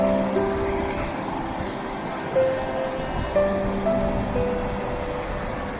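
A stream runs beside a walking path near a waterfall in the Scottish countryside, giving a steady, close rushing wash of water, with faint low tonal hum and a few soft bumps behind it.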